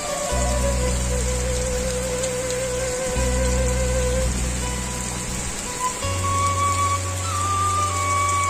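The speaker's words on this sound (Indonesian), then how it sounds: "Hujan bu." Heavy rain pours steadily over a rural village in Garut, a loud constant hiss with tonal hums and whines from passing engines mixed in, and no talking.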